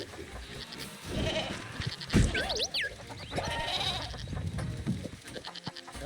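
Cartoonish goat bleats from Moving Out 2 ring out over busy in-game clatter and music, with a sharp wavering cry near the start and more scattered bleats after it.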